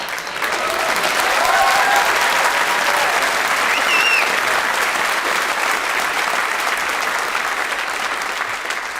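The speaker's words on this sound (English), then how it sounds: "sure, you applaud" Loud, sustained applause from a comedy show crowd, a dense unbroken wash of clapping that holds steady for nine seconds, with a few faint whoops rising above it.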